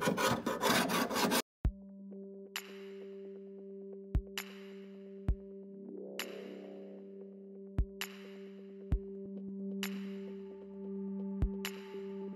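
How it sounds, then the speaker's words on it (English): Old plumber's putty is scraped off a sink during a garbage disposal installation, a series of short, sharp rasping strokes spaced evenly over a steady low hum, near and moderately loud. "So what I'll do is I'll scrape it off"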